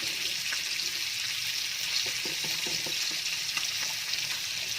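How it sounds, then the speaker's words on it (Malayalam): A pan of mushroom curry bubbles and sizzles steadily, with soft popping and occasional spoon clinks against the pot. "നമ്മൾ കറി ഇത് നന്നായിട്ട് തിളച്ച് വരുന്നുണ്ട്"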